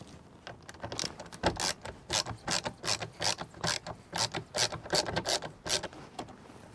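A ratchet backs out T25 bolts from interior trim on an Audi TT MK3, giving about a dozen quick, close bursts of sharp clicking in an uneven rhythm, with no talking.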